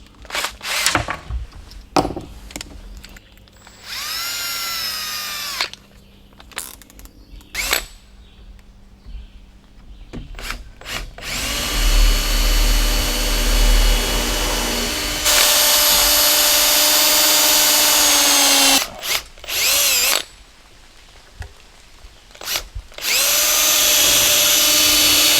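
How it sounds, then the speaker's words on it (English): A power drill bores holes in wood while a solar shed is framed, with several whining bursts of varying length separated by clunks, handling noise and short pauses. "Drill some holes."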